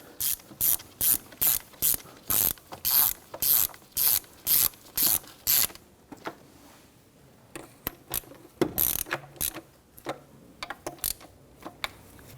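A ratchet tightens the knock sensor bolts on a 2017-2020 Hyundai Elantra 2.0L four-cylinder engine, with rapid, evenly spaced bursts of clicking for several seconds, then sparser, slower clicks, close and crisp with no talk.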